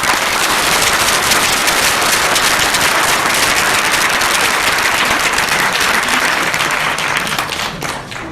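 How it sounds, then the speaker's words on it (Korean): A large indoor crowd at a political rally at BEXCO in Busan breaks into sustained loud applause of encouragement, a dense hiss of clapping that holds steady and fades slightly at the end. "이분들에게 격려의 박수 부탁드리겠습니다."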